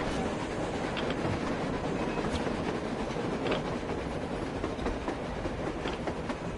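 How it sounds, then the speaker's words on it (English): A train rolls past on the surface in the video game Metro Exodus, a dense, steady roar with rhythmic clickety-clack of wheels over rail joints, loud and close throughout with no speech. "A train! A damn train on the surface!"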